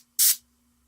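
Short hiss of spray paint misted onto a miniature turtle model, one burst of about a quarter second, close and fairly loud, with a faint low hum underneath.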